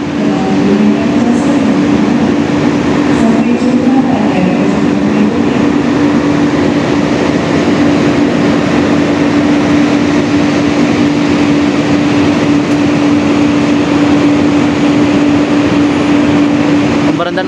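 The Bengawan passenger train between Jakarta and Solo runs on rails, heard from inside as a loud, steady rumble with a constant low hum.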